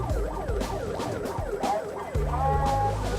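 Police car siren wailing loud and close in steady repeating up-and-down sweeps, with a vehicle engine rumbling underneath and no talk.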